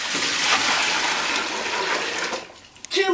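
Water pours in a steady, loud gush into a fermenting bucket for pumpkin and raspberry wine, running for about two seconds before tapering off into a few small splashes.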